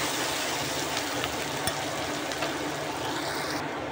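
Spice masala with cumin and coriander frying in oil for a mushroom and potato curry, a constant bright sizzle close by with occasional soft knocks of a stirring spoon against the pan.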